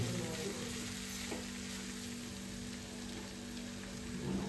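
Dad's dish sizzles steadily in a pan as salt goes in and it gets stirred, a continuous close frying hiss with a faint low hum underneath.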